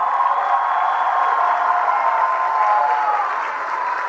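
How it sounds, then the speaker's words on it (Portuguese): An audience claps at a university ceremony on a Universidade Federal Fluminense campus, giving steady, sustained applause that fills the room and fades slightly near the end. "Portanto, a salva de palmas a Conceição de Maria Costa Muniz."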